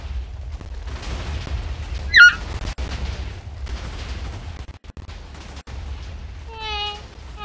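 Explosion in Minecraft, a sharp burst partway through amid steady game background noise, followed later by a series of bright chirping tones.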